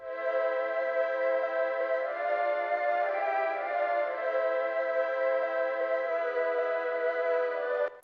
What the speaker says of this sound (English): But then I also added another choir right here, which sounds like this.